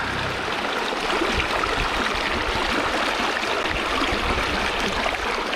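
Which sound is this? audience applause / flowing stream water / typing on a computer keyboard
flowing stream water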